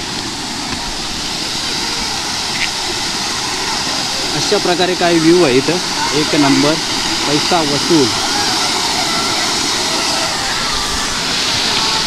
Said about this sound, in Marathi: आपण धबधब्याच्या एकदम जवळ